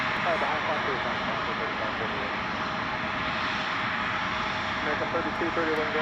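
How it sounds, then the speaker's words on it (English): A Delta airliner taxiing at Chicago O'Hare airport, a steady broadband engine roar filling the scene throughout, with a voice talking over it. "while we watch this Delta 75 taxi"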